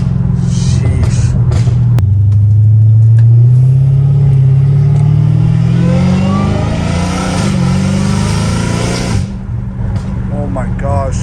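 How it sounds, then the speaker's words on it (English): A supercharged Dodge Hellcat Redeye revs hard, its engine note rising steadily over several seconds before dropping off, with a loud, close rumble and a thin whine riding on top. "the supercharger whine, bro, I don't care what anyone's gotta say, bro. That thing's sexy."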